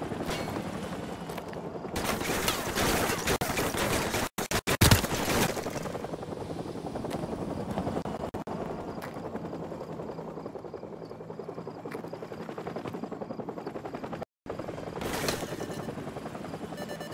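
A helicopter in Call of Duty Modern Warfare roars with a continuous loud rotor wash, layered with bursts of gunfire and brief dropouts.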